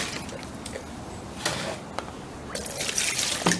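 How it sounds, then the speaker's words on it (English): Rinse water is poured out of a salad spinner used to wash cloth pads. There are quiet trickles and splashes, then a louder gush of water near the end, close by with no talk. "what we'll do is we'll dump out this water"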